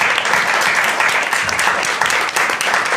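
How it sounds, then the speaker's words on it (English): A live audience applauds a panel at an evening campus networking event, with dense, steady clapping filling the room throughout. "Let's give them a round of applause."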